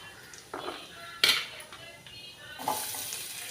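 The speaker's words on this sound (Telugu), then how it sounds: "ఇవి బాగా వేయించుకోవాలి." Green chillies, cumin seeds and chopped ginger frying in a pan, with a light sizzle under scattered clinks of a spoon against the pan and a few louder metallic knocks.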